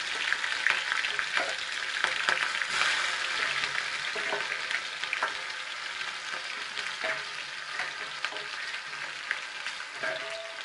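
Chopped green onion fries in a pan with coriander for a Himachali mango curry, giving a steady, fairly close crackling sizzle dotted with occasional light utensil clicks.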